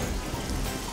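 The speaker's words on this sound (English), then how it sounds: "Oh, it's raining again." Steady rain falls hard on a surface, a dense, constant hiss and patter that stays loud and even throughout, with no voices.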